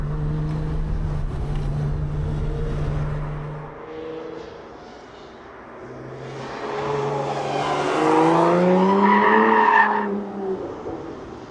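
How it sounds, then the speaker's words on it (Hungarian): A Lotus Emira sports car engine revs and rises in pitch, with a high supercharger whine climbing above the growl, loud and close, fading briefly before surging again. "ahogy a kompresszor sikít benne"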